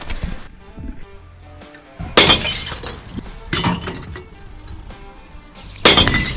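Glass bottles smash inside a bottle-bank recycling container in Germany, with three loud, sharp shattering crashes that each trail off into tinkling shards, close up and separated by quieter gaps.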